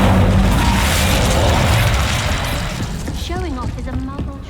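An Incendio fire spell cast in Hogwarts Legacy bursts out as a loud, roaring whoosh that fills the opening seconds and then fades, with a voice speaking near the end.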